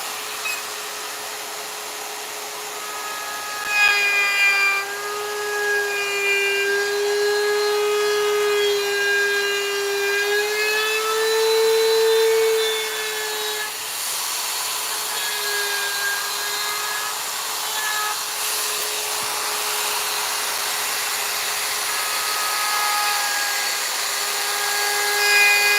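A chainsaw carving wood for a snowman, gnome and small bear figure runs steadily near and loud, its engine whine rising and falling with throttle changes throughout, with no talk.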